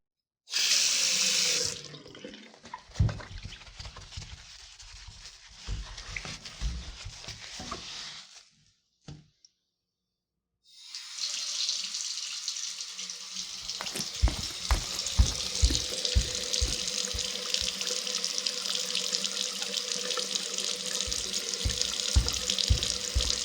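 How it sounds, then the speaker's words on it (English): Tap water running steadily into a sink, with a short burst at the start, a brief pause and silence midway, then a strong continuous flow returning with splashing and drips, no talking. "I'll run this water a bit for you and I'll be right back."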